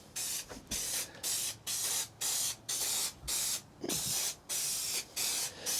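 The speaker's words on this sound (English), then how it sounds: "Just try to spray into these grooves." Coating sprayed from a nozzle into the grooves of a Chevy Express van floor, a steady series of about a dozen loud hissing bursts with short regular gaps, no talking.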